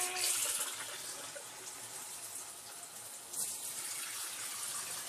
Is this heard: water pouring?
yes